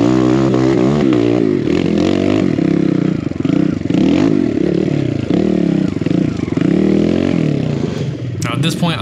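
A BBR KLX170RF dirt bike engine labours loud and close on a hill climb, revving and bogging in uneven surges with scraping clatter, ending with a brief sharp noise.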